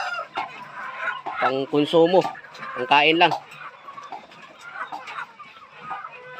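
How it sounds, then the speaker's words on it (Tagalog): Backyard chickens kept for food cluck and squawk in a cluster of loud, ringing calls near the middle, with someone speaking before and after and softer clucks trailing off. "alaga ng manok"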